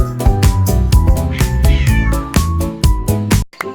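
A kitten meows repeatedly over a bouncy children's song, the cries mingled with rhythmic beats and melodic notes, loud and close until a brief drop near the end.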